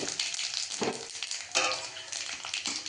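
Cumin, coriander, panch phoron, cinnamon and dry chili frying in hot oil make a loud, dense crackling sizzle, close up, with bursts of stirring and no voices.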